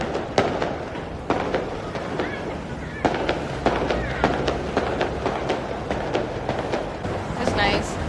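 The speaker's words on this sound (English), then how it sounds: "Fireworks." Fireworks burst repeatedly over a crowded busy market in Kuala Lumpur, sharp irregular cracks and pops a short distance away amid crowd chatter and people talking.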